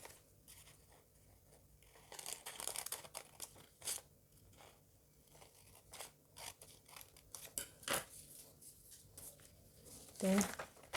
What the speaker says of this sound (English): So cut out this cup.